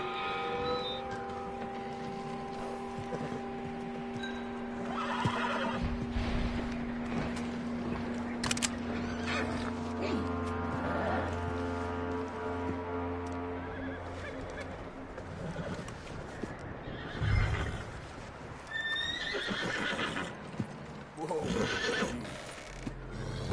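A horse in a PS4 Western game whinnies and neighs several times over a busy layer of game music and ambience, with brief hoof clatter; a voice talks intermittently throughout.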